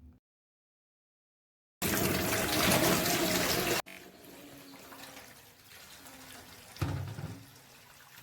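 Water pours loudly from a tap over groceries being washed for cooking, a steady rushing stream that stops, then continues as softer splashing and sloshing while the food is rinsed.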